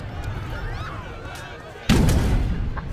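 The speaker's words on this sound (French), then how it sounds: "Allez, canon vs canon." Cannon fire in a strategy video game set in an age of empires with Aztec armies, a loud sudden boom arriving after a quieter stretch of game ambience and lingering as a rumbling burst.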